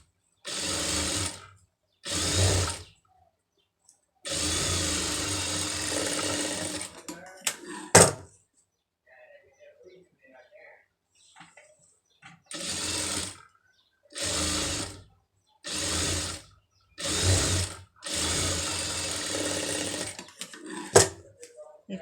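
Sewing machine stitching cloth while tailoring a garment, running in repeated bursts of a few seconds each, loud and close, separated by quiet pauses with small handling clicks of the fabric.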